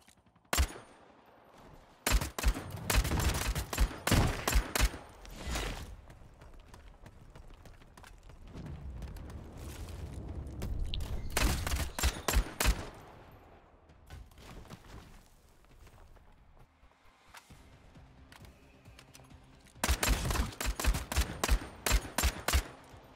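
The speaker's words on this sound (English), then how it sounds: "I press one, it switches to my pistol." Pistol gunfire in the video game Vampire: The Masquerade - Bloodhunt comes in rapid loud bursts of shots separated by quieter stretches of movement and ambience.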